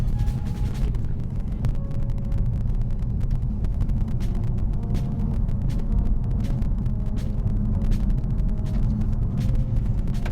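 Toyota C-HR Hybrid crossover driving over an uneven road surface, a steady low rumble of tyres and road noise inside the cabin, continuous and even throughout.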